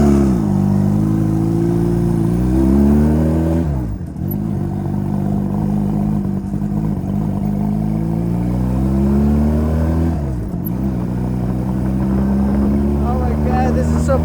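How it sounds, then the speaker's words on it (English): A tiny 1986 Honda Rebel motorcycle engine drones steadily close up while riding, its pitch rising and falling through throttle changes with brief dips around shifts; a voice talks over it. "1986 Honda Rebel. This is such a tiny bike."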